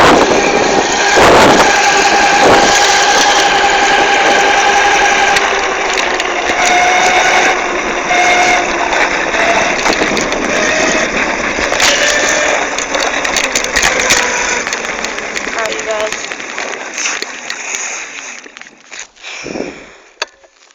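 Dirt bike engine running at a steady idle with a constant mechanical drone, loud and close, then winding down and cutting off near the end.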